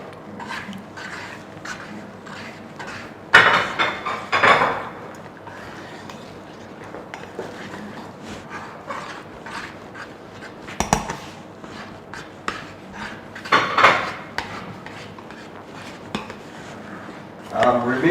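A spoon stirs sorghum pap and beans pudding in a bowl, with repeated clinks and scrapes against the dish and a few louder knocks, while a person talks over it.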